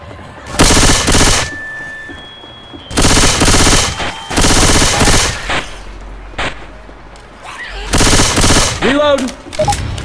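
Bursts of automatic gunfire from guns in the zombie shooter Left 4 Dead 2, loud rapid volleys in several separate strings with brief gaps, a short voice between them.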